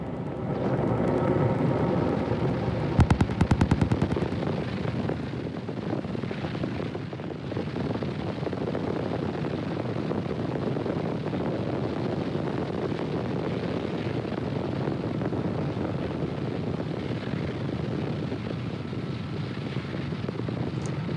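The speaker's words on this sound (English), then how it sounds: "Falcon 9 has successfully lifted off" A SpaceX Falcon 9 rocket climbs away from Space Launch Complex on a Starlink mission, its broad, rumbling roar sustained and distant, with crackling buffets early on.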